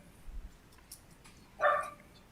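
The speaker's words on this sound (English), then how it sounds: "dog giving a report?" A dog barks once over a video call, a short sharp yelp standing out against faint background room noise, with no talk at that moment.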